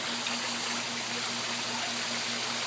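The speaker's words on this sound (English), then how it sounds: "we'll take a look at the flow of the shower here" Water from a pump runs through a shower in a steady, broad rushing flow, accompanied by a constant low hum, with no talking.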